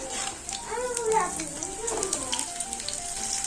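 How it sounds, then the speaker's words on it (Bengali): Pumpkin slices sizzle in hot oil, a steady crackling fry heard close up while a voice talks over it. "তেল গরম করতে দিয়েছি, ভেজে নেব। দেখো তেলে ছেড়ে দিয়েছি।"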